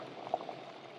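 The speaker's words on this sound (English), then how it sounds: "We're hitting, that's rolling boil, stop." Water at a rolling boil in a pot on a camp stove, a faint steady bubbling hiss with a couple of small pops, heard close with no voices.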